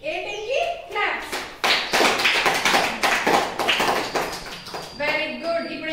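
Children clap for the winning team during a classroom activity, a burst of rapid, loud, uneven hand claps that runs for several seconds, with a voice briefly heard.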